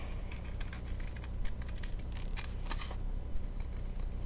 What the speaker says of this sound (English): I'm using some really long handled scissors here